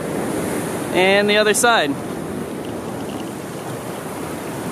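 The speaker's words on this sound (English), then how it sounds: "Apparently, there's like a river in between us" A river flows between two groups of people on a Los Angeles cliffside outing, giving a steady, full rushing wash of water with brief talk partway through.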